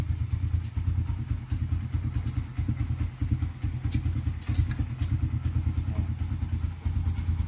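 A motorcycle engine running in first gear during a speedometer test, a close, steady pulsing chug with a few light clicks and taps.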